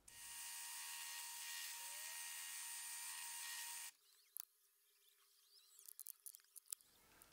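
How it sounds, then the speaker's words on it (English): A high-pitched motor whines steadily for a few seconds as a drill press drills small holes, then cuts off, leaving a low hum and light scraping clicks. "switch over to the drill press to get that done"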